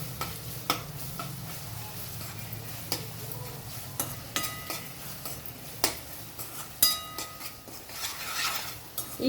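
Ginger garlic paste sizzles in a pan under a soft frying hiss while a utensil stirs it, producing repeated sharp clinks and scrapes against the metal at an uneven pace.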